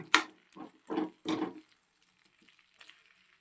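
Masala powders for paneer tikka masala frying and being stirred in a pan, heard as a few short scraping, sizzling strokes close up, then quiet.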